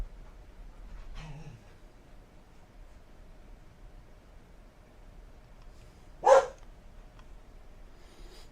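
A puppy barks during a severe thunderstorm with tornado warnings in Oklahoma: one soft yelp early, then a single sharper bark later, both brief against a low steady background hiss.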